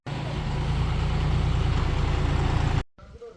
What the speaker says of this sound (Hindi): नाना जी ने एक नया ट्रैक्टर खरीदा है किसानी के काम करने के लिए